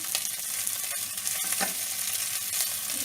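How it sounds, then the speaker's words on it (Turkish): Precooked döner meat sizzles and crackles steadily in a hot pan, close up, with occasional scraping stirs and no voices. "ben hazır dönerlerimi tavama koydum kızarttan"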